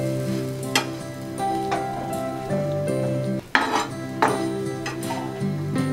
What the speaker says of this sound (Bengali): ঠিক সেম প্রসেসে আমি এই সেকেন্ড ব্রেডটাও ভেজে নেব।